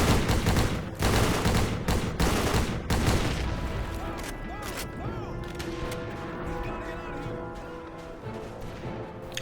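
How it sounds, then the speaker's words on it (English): Heavy gunfire from a World War II game opens with loud bursts and impacts, then fades to quieter distant shots beneath a musical score with sustained tones. "Taking out these machine gunners in the distance."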